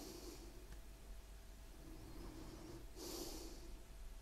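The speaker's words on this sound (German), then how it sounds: "Jetzt atme ich mit Absicht laut." Audible breathing, with a couple of loud airy breaths, one near the start and a stronger one toward the end, over a low steady hum, picked up by a KIMAFUN 2.4G wireless lavalier microphone.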